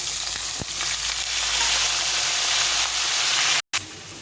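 Salted, turmeric-coated eggplant pieces fry in a pan with a loud, steady sizzle and hiss, brief clatter near the start and a short cut near the end.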